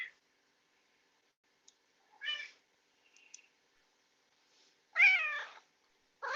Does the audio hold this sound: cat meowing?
yes